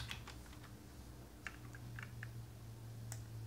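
Light, quick keystrokes on a computer keyboard, a soft run of clicks at the start, then scattered single taps over a steady low hum.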